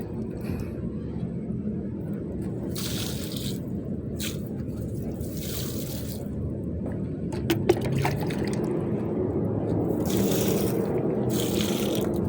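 A hose soaks a courtyard, sending a steady, splashy rush of water across the ground, with louder spraying bursts coming and going over the whole stretch.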